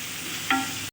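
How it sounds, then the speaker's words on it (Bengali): Vegetables being stirred and fried in a clay wok while making milk pulao: a steady low sizzle with a single sharp scrape of the spoon midway, close and brief. "এবার খুব ভালোভাবে নেড়ে চেড়ে সবজিগুলো আমি ভেজে নেব"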